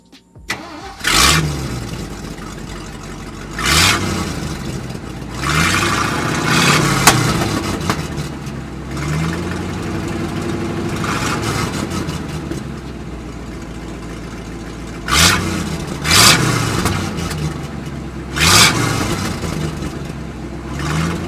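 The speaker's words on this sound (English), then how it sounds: "I'm gonna put the camera next to the exhaust so you guys can hear how it sounds." Exhaust of a 1966 Ford F500 truck heard up close, the engine idling with a steady rumble broken by several sharp revs that rise and fall back, loud and alone.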